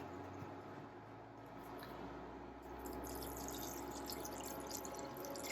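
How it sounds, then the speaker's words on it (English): Water poured from a container over chopped squash in a cooking pot for soup, a steady, continuous splashing wash that grows slightly fuller midway, close by with no talking. "And so now I'm going to cover it with water."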